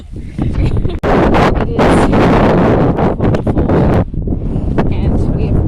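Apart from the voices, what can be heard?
wind blowing outdoors in Tasmania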